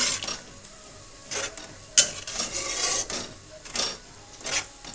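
A ladle stirs goat blood fry in a pan, producing gentle frying sizzle under repeated scraping strokes, with a sharp metallic clack near the two-second mark and rhythmic stirring swells after.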